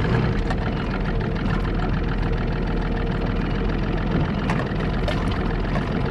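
An Evinrude G2 outboard boat motor idles, a steady low rumbling drone with a fine mechanical patter, continuous and fairly close with no talk over it.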